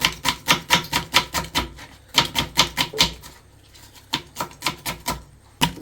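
A knife chops onion on a board, cooking chicken masala biryani. Rapid, close, rhythmic chops come in three fast runs separated by short pauses.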